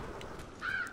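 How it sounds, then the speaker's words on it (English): A short bird call in the video game Apex Legends, a single faint caw-like cry over low background game ambience. "Oh, it's a bird."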